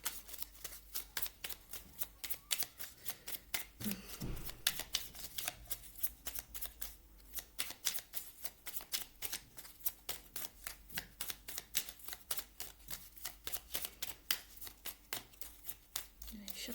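Oracle cards shuffled in a steady run of quick, crisp riffling snaps, close and fairly quiet, continuing for the whole stretch with brief pauses, while a voice talks underneath at times.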